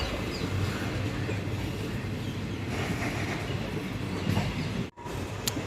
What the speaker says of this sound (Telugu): సో ఇక్కడ చూసారంటే ట్రైన్ ఇప్పుడే కదిలింది